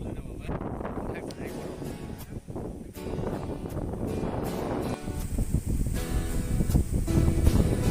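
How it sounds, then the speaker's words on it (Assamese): Strong gusty wind blows outdoors under a darkening, overcast sky, a steady broadband rush buffeting the microphone and rising toward the end, while people talk over it. "পূৰা বতাহ মাৰিছে"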